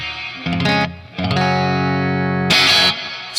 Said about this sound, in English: It's got a digital reverb built into it